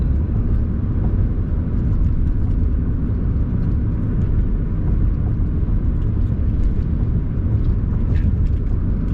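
A car cruises along the M-53 Van Dyke Freeway near Detroit, giving a steady, dense low road rumble and tire roar that holds constant throughout, with no talking.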